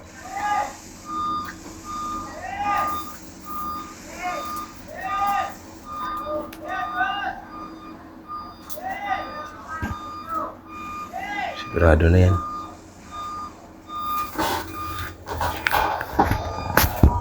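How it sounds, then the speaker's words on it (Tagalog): Traffic outside, with a truck's reversing beeper repeating steadily at a moderate distance alongside passing vehicle noise, all under ongoing talk in the room. "Ingay sa amin dito, may mga sasakyan. Nagtututot pa."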